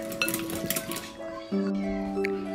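A whole egg and yolk are whisked in a bowl, giving a quick run of light clinking taps against the side, followed by a ringing tonal clink and a quieter tail.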